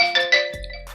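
A phone notification plays a short series of bright chiming tones, then a lower buzzing vibration, loud and close with no talking.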